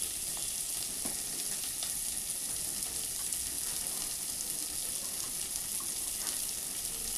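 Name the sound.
spices frying in a pan for cabbage and fish-head curry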